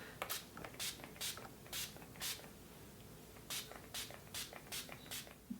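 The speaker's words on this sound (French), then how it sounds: "Je vais mettre un petit peu de spray All Nighter de chez Urban Decay." Short bursts of Urban Decay All Nighter setting spray misted onto a face, about ten quick hissing puffs in an uneven rhythm, close and fairly quiet against a still room with no talking.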